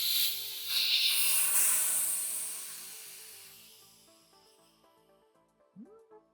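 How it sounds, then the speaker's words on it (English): Air hissing out of a bicycle tire valve on a tire filled with tubeless sealant, a strong hiss that gradually fades out over several seconds, followed by a brief squeak near the end. "let's let the air out of here and see what we get"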